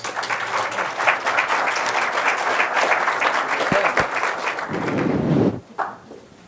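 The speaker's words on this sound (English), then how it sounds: "A round of applause for them, please." Audience applause for forum panelists at a tourism outlook forum in Bermuda, a sustained, dense round of clapping from a room-sized crowd that fades out near the end.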